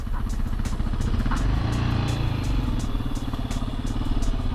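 Kawasaki KLX140 dirt bike ridden by a first-time rider, its engine running steadily and loudly throughout with a throbbing low drone and some clatter, close by.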